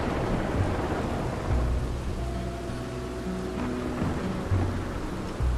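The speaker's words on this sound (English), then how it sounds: "it's just a perpetual storm" A constant storm in Red Dead Redemption 2 gives steady rain hiss with low rumbling thunder rolling underneath, loud and continuous without any voices.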